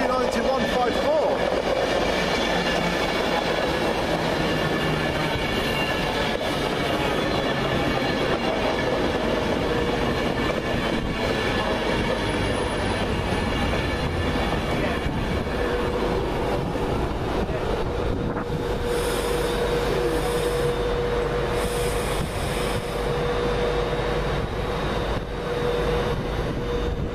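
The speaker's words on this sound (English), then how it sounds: "Now approaching platform two is an Austin Pendolino." A Pendolino train approaches platform two at Penrith station with a long, steady rumble and rail noise and some wind buffeting. Faint tonal hums and squeals come through, and the sound continues throughout.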